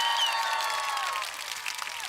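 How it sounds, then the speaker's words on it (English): A burst of crowd applause and cheering, steady clapping that thins out slightly toward the end, moderately loud. "Start cheering now!"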